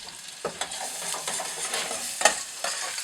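Eggs fry in a pan on a small stovetop in a tiny house kitchen, a continuous close sizzle broken by a few sharp scrapes and taps of a utensil.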